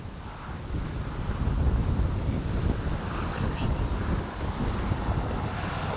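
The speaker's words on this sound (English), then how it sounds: "It's windy too." Strong, gusty wind roars across a microphone at an RC plane flying field, a constant loud rumble with heavy low buffeting that continues without pause throughout.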